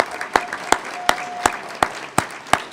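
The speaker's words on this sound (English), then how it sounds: "Give them a round of applause." Applause at a small business awards ceremony for a septic company, sounding as sparse, evenly spaced loud claps roughly every third of a second over a quiet room murmur, close and distinct.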